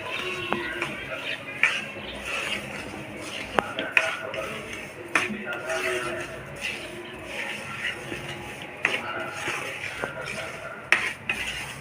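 Semolina roasting in ghee gets stirred with a metal spoon, scraping and clinking against the pan at irregular intervals, with a faint low sizzle underneath and some background voices.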